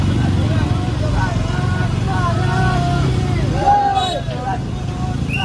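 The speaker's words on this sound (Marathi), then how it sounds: "भाई फुल ट्रॅफिक मध्ये कसल्या गाड्या काढताना बघा तुम्ही" Dense road traffic surrounds a motorbike on a trip from Alibag to Shirdi, passing a religious procession: a continuous engine rumble with crowd babble and wavering horn tones throughout.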